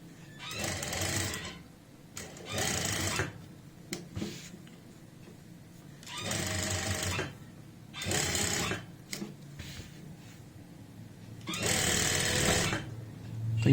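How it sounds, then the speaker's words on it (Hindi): Sewing machine stitching piping around the curved hem of an apple cut kurti, running in several separate bursts of rapid mechanical whirring with short quiet pauses between them, close and alone. "ऐसे ही आपने सिलाई लगाते जाना है। अगर आप फर्स्ट टाइम लगा रहे हो उस पाइपिंग, तो थोड़ा सा इसमें ध्यान रखें, धीरे धीरे लगाएं"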